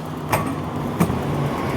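A bus rolls past on a city street, a steady low engine rumble filling the clip with a couple of brief clunks, fairly loud and close.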